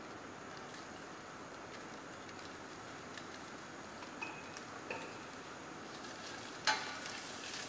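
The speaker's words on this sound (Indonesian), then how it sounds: "Kita tumis sebentar." Red onion sautés in a saucepan with a little oil and seafood juices for a Thai dish, giving a steady close sizzle and hiss with a few faint stirring clicks.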